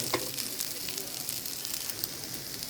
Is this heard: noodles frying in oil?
yes